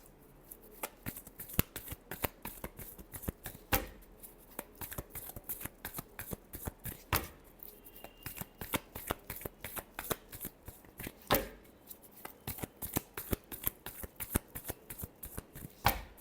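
Tarot cards being shuffled by hand, a long run of sharp riffling snaps and soft slaps in an uneven rhythm, close and clear, with no talk over them.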